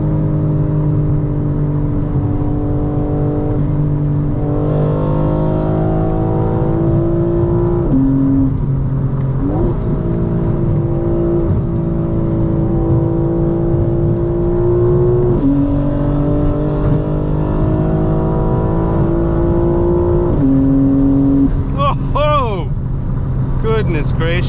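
2025 BMW M4 Competition xDrive engine revving hard while drifting out of a car meet, heard from inside the car: loud, rising and falling revs with several quick gear changes, someone talking throughout.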